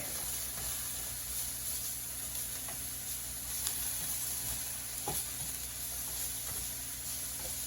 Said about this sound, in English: I'm gonna just fry my onions right in this same pan